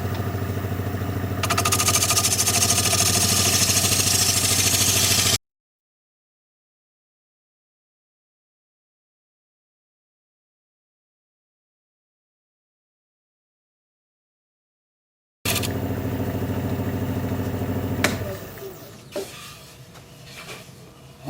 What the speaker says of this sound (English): I'm just going to switch to a 3/8 inch bowl gouge to work inside here.